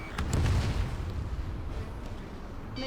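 A missile launch in the Ace Combat 7 flight game roars out as a loud, rumbling whoosh that swells in the first half second and then trails off into a sustained heavy noisy rush.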